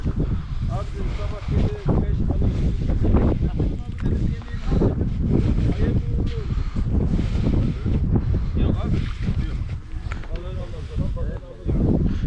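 Strong wind buffets the microphone in loud, continuous gusts at a mullet fishing spot, with voices talking underneath.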